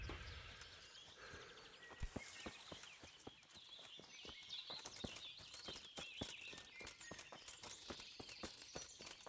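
Horse hooves clip-clop steadily on the ground in Kingdom Come: Deliverance, a quick, regular run of sharp strikes up close with faint birdsong and outdoor ambience behind, no talk.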